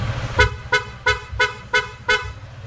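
Six short, bright honks from a PIAA dual horn on a Honda ADV 150 scooter in a steady rhythm, each a brief harmonic toot, sounding close and loud against a low engine rumble.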